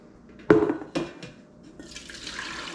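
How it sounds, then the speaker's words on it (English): A couple of sharp clunks, then homemade vanilla ice cream mixture pouring into a bucket with a rising splashy rush. "got our bucket here. We're just going to pour all this in."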